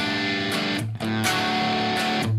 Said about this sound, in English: if I go up here to the gainy side of this amp, the distortion that you get is